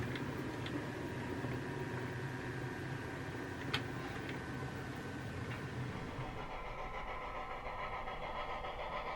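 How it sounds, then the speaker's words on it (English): New Jersey Transit train at a station stop near Camden, a steady low rumble of an idling engine with broadband noise, one brief sharp clank midway, and the sound thinning out toward the end. "the New Jersey Transit train can make its station stop"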